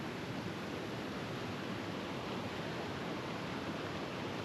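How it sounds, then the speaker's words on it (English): A waterfall on a hiking trail tumbles over a long run of small drops, a soft, even, continuous rush of water with no breaks and no voices. "The waterfall goes quite a ways with just little drops and drops throughout."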